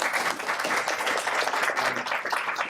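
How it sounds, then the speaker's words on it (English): Steady, moderately loud clapping from an indoor audience at a candidates forum, a continuous wash of hands with no voices standing out. "You can applaud now if you like."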